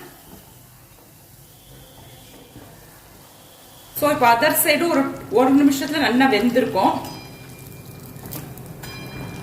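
Rice-flour thenkuzhal dough, made with parboiled rice and spice, frying in hot oil: a constant bubbling hiss that runs quietly, then continues beneath a stretch of talking before settling back to a soft sizzle.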